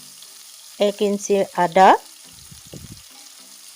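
Tomato, ginger and two green chillies sizzle in mustard oil in a hot pan, with a steady, moderate hiss running under a short stretch of talk and continuing once the voice stops.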